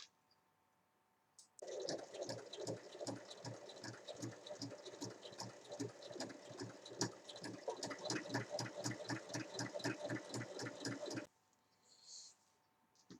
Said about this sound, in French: je vais piquer de chaque côté à 1 mm donc du bord et ici de la couture